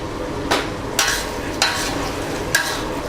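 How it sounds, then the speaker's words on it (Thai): Sponge gourd stir-fried with egg and fresh peppercorns hisses continuously in the pan, broken by four evenly spaced scrapes of the spatula. "หลังจากนั้นก็ดอกพริกไทยตามได้เลย เพิ่มความหอม ผัดให้เข้ากันครับ"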